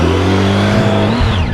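A Honda Africa Twin motorcycle engine revs loudly and close on a steep slope, its pitch holding steady and then climbing sharply near the end as the clutch is fed.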